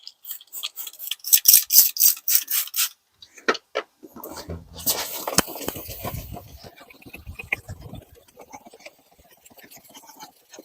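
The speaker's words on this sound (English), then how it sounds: "which is sanding with the 2000 grit" Plastic car headlight being wet-sanded by hand with 2000 grit sandpaper: quick rhythmic rasping strokes up close, a short pause, then softer, more irregular rubbing.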